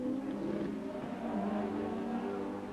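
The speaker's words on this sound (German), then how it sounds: "In langsamer Fahrt fährt Klaus Ludwig noch einige Runden mit qualmendem Motor." A racing car from the Deutsche Rennsport Meisterschaft crawls along slowly with a smoking, failing engine, giving a steady, continuous drone of motor noise with no other sounds over it.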